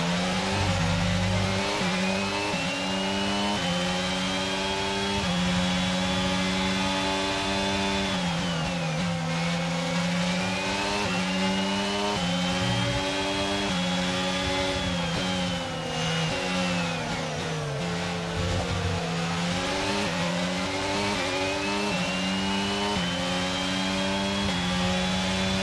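A Formula 1 car engine in the F1 22 racing game screams at high revs, loud and continuous, its pitch climbing through the gears and dipping briefly before rising again, with no voices over it.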